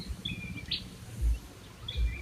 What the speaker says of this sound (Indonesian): Suara burung kutilang di pagi hari